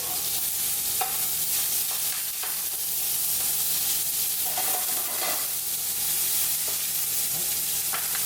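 Beef fries in a piping hot pan for Korean jajangmyun, a steady loud sizzle with scattered clicks and a few utensil scrapes, and a faint tonal hum running underneath.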